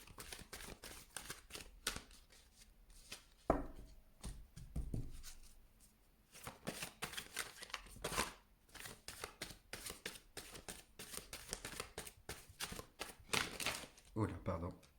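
Angel oracle cards being shuffled, rapid close riffles and soft flicks repeating in bursts with brief pauses, crisp and near, no talk.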